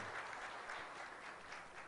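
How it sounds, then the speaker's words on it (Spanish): Conference panel audience claps steadily for a presenting engineer, a dense, even patter of many hands heard up close without speech. "Yo les pediría que me acompañen en un aplauso para el ingeniero Martínez Anguiano."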